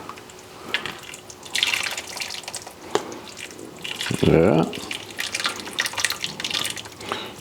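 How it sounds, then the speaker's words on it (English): Rouladen cooking liquid strained and poured in a kitchen, with dripping and trickling liquid and a brief louder splashing pour, heard under a person's talk. "we don't want to hold it too high up, otherwise we're splashing it all over the place."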